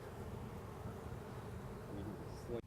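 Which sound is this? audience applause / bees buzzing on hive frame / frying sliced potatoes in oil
bees buzzing on hive frame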